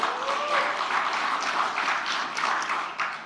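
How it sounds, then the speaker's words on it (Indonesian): Audience applause at a political speech in Indonesia, dense continuous clapping from a crowd, moderately loud and sustained for several seconds with no talking over it. "Ya yang keren ngapa sih ya tepuk tangannya?"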